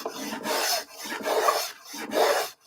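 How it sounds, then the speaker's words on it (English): A woodworking hand plane cutting shavings from a board, three loud close rasping strokes in a steady back-and-forth rhythm with short pauses between them, no voices. "Now, you should get, if you sharpen it right, a shaving, okay?"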